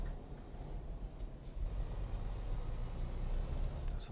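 Low rumbling truck engine in Euro Truck Simulator 2 building steadily as it pulls away, a continuous deep drone growing slightly louder with faint hiss above it.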